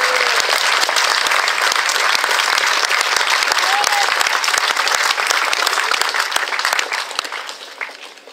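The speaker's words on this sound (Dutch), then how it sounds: "Dus ondersteunt u haar maar met een geweldig applaus bij die tweede plaats" Applause from a crowd at a 2017 Dutch national time trial championship, honoring second-place cyclist Ellen van Dijk: steady, dense clapping runs loud for several seconds, then thins out and fades toward the end.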